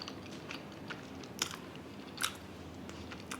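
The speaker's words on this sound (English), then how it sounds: "And I'm going in for the mochi rice cake." Someone bites and chews a mochi rice cake from tteokbokki at a Korean meal, producing soft, close, quiet mouth sounds with a few faint sticky clicks.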